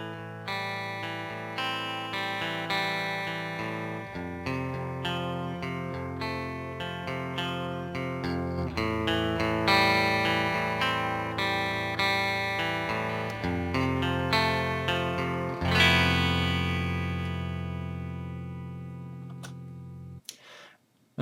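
Electric guitar line with effects processing plays steadily for about twenty seconds, panning gradually from the left speaker to the right while its volume also shifts, before a final sustained chord rings out and cuts off.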